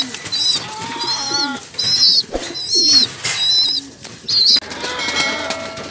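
Pigeons coo in repeated soft, rolling bursts, close and clear, with pauses between calls and brief wing flutters mixed in.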